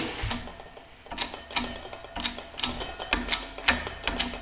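A press forcing a part into a hot, welded aluminum dirt bike engine case gives a series of rhythmic metallic clicks and ratcheting knocks, about two per second, close by with no talking.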